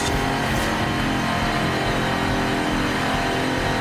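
DeLorean car in Forza Horizon 5, driven with a racing wheel on a night lap, giving a steady loud engine roar with dense broadband noise throughout.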